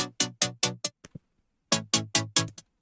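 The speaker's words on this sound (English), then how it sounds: "Which just kind of sound like future bass saws." Filtered future bass saw synth from Vital, dry with no effects, playing clean staccato chord stabs in a bouncing rhythm, with a few small ghost hits, a brief rest, then another run of stabs.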